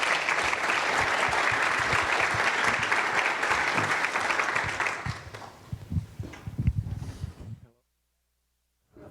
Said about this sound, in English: encourage the next two speakers with a round of applause